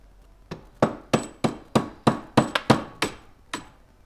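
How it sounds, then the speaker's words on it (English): Metal tool taps on a Garelli NOI moped motor part during a rebuild: about ten crisp, ringing strikes in an uneven rhythm, close up and without speech. "could you gently tap on that, please?"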